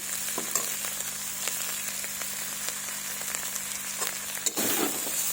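Cauliflower, carrot, tomato and chopped onion fry slowly with spices in a pan, giving a steady close sizzle with light stirring taps throughout and a brief dip near the end.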